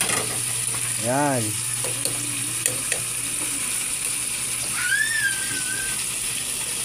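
Ingredients being stirred into a simmering Filipino mung bean (monggo) stew, with soft scraping and clinks over a gentle background sizzle. A voice speaks briefly.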